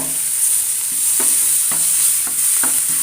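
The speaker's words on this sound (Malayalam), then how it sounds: "ഞാൻ അതിലേക്ക് ഒരു തക്കാളി ഇതേപോലെ ചെറുതായി അരിഞ്ഞതും കൂടി ഇട്ട് കൊടുക്കുന്നുണ്ട്" Chopped tomato and curry leaves frying in a pan for an egg dish, a steady bright sizzle with several distinct spatula scrapes and knocks as the mix is stirred, close and alone.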